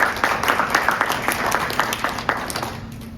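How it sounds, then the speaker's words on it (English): Scattered clapping from an audience at a public library debate, moderately loud and thinning out toward the end. "Give them a round of applause for the first question."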